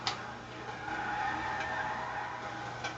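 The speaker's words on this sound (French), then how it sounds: "En passant, c'est une excellente voiture de drift." K.I.T.T., the K2000 car in a video game, drifts with a steady tire squeal and skidding hiss over engine noise, heard alone and at moderate volume.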